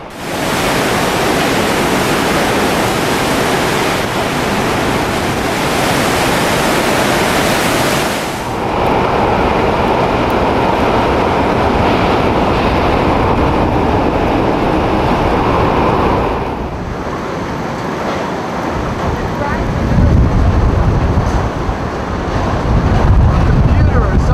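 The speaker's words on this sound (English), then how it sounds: "so this is storm surge. It's inundated our parking structure" Roaring wind and rushing, churning Hurricane Katrina storm surge water flooding a parking structure, a loud continuous broadband wash with gusts and surging flow.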